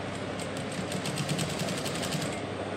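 A sewing machine stitches piping onto cloth in a steady, rapid mechanical whir with a regular needle rhythm, close and continuous.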